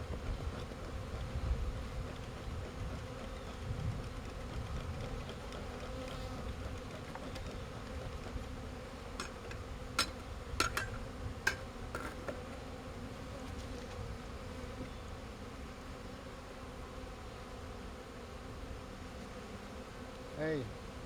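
Honeybees buzzing steadily around a nucleus colony being installed into its hive at a small farm, a faint continuous hum with a few brief clicks midway and no voices.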